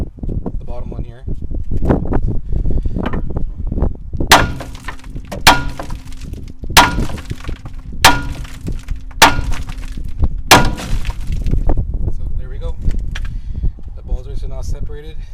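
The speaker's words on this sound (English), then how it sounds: "So I'm just going to keep hitting on the bottom one here." A hammer strikes a ball joint on a 1986 Chevy Caprice coupe to separate it, landing a series of sharp, loud metallic bangs at an irregular pace, about seven clear hits, with someone talking between blows.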